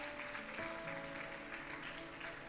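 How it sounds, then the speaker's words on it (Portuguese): Church congregation applauding during an evening evangelical service, a steady wash of clapping at moderate distance with a faint sustained tone and some voices underneath. "Você pode aplaudir o Senhor nessa noite."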